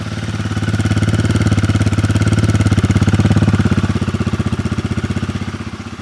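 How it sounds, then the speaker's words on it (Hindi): A Royal Enfield Guerrilla 450 motorcycle's exhaust thumps with a deep, rapid, even pulse close by. The note swells slightly, then eases off toward the end. "तो ये जो है इसका एग्जॉस्ट नोट है, अब मैं आपको एक बार सुनाता हूँ।"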